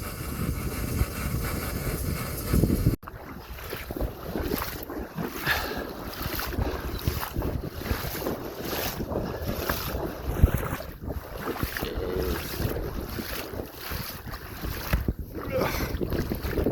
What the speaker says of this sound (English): It's really windy down here. The windiest it's been all day.